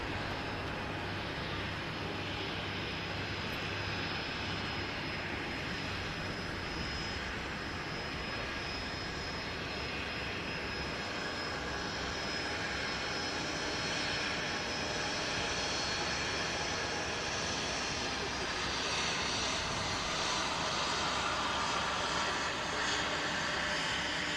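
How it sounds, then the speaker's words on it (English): An EasyJet airliner arriving from Porto roars steadily as it comes in to land at Manchester Airport, a loud continuous engine rush that swells slightly toward the end with no voices over it. "this next arrival, which is an EasyJet from Porto. It's going to be the next aircraft to touch down with us here at Manchester"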